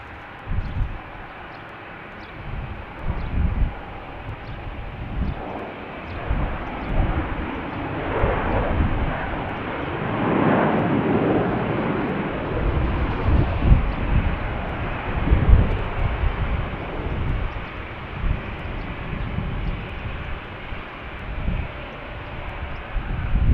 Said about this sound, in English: Our Airbus A319 arriving from Jackson Hole,